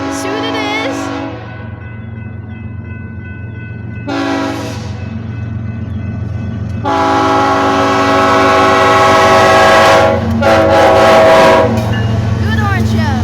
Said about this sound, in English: Good hornshow.